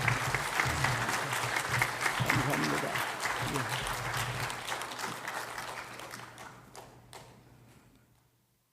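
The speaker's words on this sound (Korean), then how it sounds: "여러분 한번 박수로 맞아주시면 대단히 감사하겠습니다." A crowd claps steadily in applause that gradually thins and fades out, with a brief spoken word partway through.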